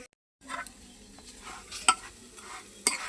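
A paratha frying in ghee on a tawa, with soft sizzling and stirring scrapes close by, broken by two sharp metallic clinks after a short silent start.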